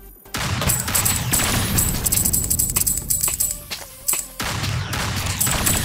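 Improved weapon firing in the autobattler horde game Project Lazarus, a dense run of rapid shots with brief gaps and small metallic clinks, loud and near throughout.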